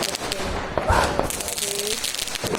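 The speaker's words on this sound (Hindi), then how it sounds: "ये देखो भाई ये हो गई है पटाखे पार्टी शुरू।" Diwali firecrackers going off on a rooftop, a few sharp bangs and crackles mixed into a noisy outdoor scene, with a person talking over them.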